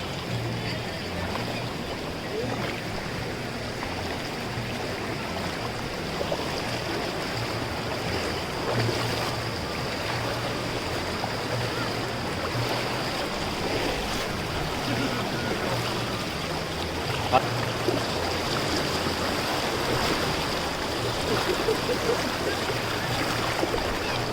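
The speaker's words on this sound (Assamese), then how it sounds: "ইমান ঢৌ আহি আছে এইফালৰ পৰা" Steady rushing river waves fill the scene, a constant churning wash with a low engine-like drone underneath, close and continuous with no pauses.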